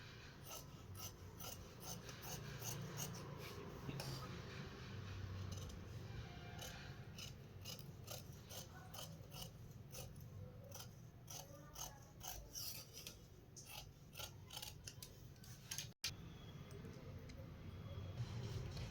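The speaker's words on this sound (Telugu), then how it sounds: "నేను ఇప్పుడు కటింగ్ చేస్తున్నాను." Scissors cut through blouse lining fabric in a run of repeated crisp snips and rasping strokes, close by and steady for most of the stretch, with a muffled background hum and no talk.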